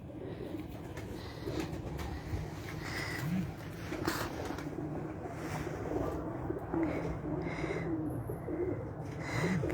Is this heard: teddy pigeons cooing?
yes